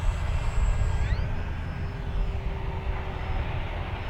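An FMS Fox 3000 mm RC glider passes slowly and inverted. Its electric motor gives a steady, close whine over a broad windy rush, with a brief rising pitch sweep as it goes by.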